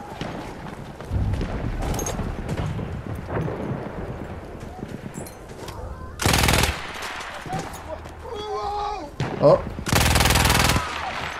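Two loud bursts of machine gun fire ring out in Battlefield 1 amid a noisy battlefield of hoofbeats and scattered shots, with someone talking and exclaiming in between.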